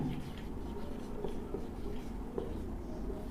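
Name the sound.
writing on a board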